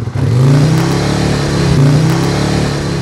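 A motorcycle engine revs up hard close by and then holds a steady, loud mid-pitched drone.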